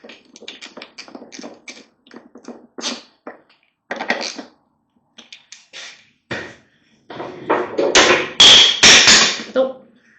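A screwdriver clattering during an airbox install on a GSX750F motorcycle: scattered light taps and knocks, then a louder burst of hard metallic rattling and clanking near the end.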